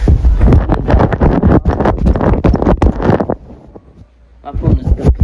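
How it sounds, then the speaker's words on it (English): Strong gusting wind from a severe thunderstorm in New Jersey buffets the microphone with loud, continuous roaring bursts, easing briefly near the end before picking up again; no speech is heard over it. "It's still windy as freak."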